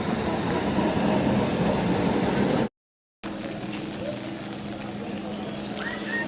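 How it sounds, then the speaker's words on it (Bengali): A train pulls into a rainy station at Sonarpur, a steady heavy rumble that cuts out for a moment partway through and then resumes, a little softer. "আমাদের ট্রেনটা চলে আসলো"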